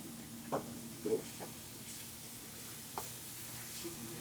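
Ground lamb and onions frying in a pan give a quiet, steady sizzle, with a few soft stirring knocks scattered through it.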